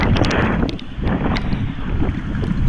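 Wind rushes over the microphone during a cool bike ride, a loud continuous buffeting roar with gusty swells and no speech.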